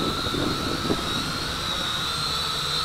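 A large RC Leading RC109F FPV drone flies past with a steady high-pitched motor and propeller whine, constant and moderately loud.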